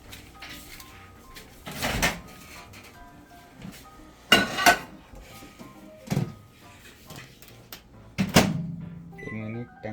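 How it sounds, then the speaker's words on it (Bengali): A homemade pizza going into a home oven: several distinct thuds and clanks of the door and tray spaced a couple of seconds apart, close and moderately loud, with a low background hum between them. "এখন আমি এটা নিয়ে যাবো ওভেন।"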